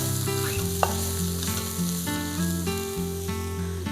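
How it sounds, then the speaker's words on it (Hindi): Masala with turmeric stirred in a pan for chicken curry: a low sizzle under scraping strokes of a spoon, with a steady musical tone running beneath, close and continuous, no talk. "साथ साथ इसको थोड़ा सा चला भी लेंगे ताकि हमारा मसाला जो है"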